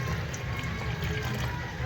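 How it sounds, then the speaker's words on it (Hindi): About a cup of water is poured into a grinder holding a ginger candy mixture, giving a continuous close splashing and rushing sound that fills the short moment. "1 कप पानी डालकर"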